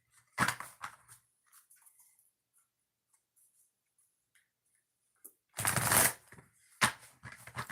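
A deck of oracle cards is shuffled twice during a live reading, two short bursts of riffling and card friction close to the microphone, separated by a stretch of near silence with faint handling sounds.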